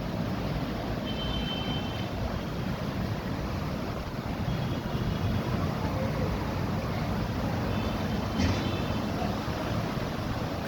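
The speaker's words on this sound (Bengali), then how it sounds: "প্রচণ্ড স্রোত, দাঁড়িয়ে স্নান করা যায় না, টেনে নিয়ে চলে যায়।" A strong river current rushes past a bathing spot, a loud continuous roar of flowing water with wind buffeting the microphone throughout, while voices murmur faintly underneath.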